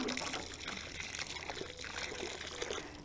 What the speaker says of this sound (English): We're going to also add water to this hole first.